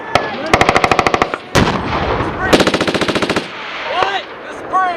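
Marine Corps machine gun section firing at 29 Palms, loud rapid bursts of automatic fire at close range, two long rhythmic strings separated by a heavy single report, with shouted voices between.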